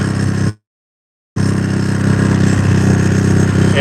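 A pit bike missing its right foot peg and running on only a front brake idles and putters loudly while coasting downhill, cutting out briefly before the steady engine drone resumes.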